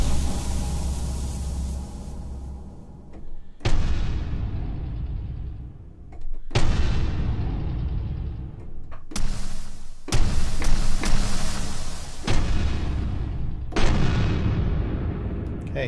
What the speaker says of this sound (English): If you want that machine gun sound, that will give you that sound as well.